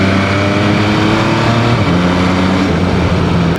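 An MV Agusta Superveloce 800 sportbike in sport mode, engine revving hard at full power, a loud close continuous roar with rising and shifting pitch as it accelerates, no speech.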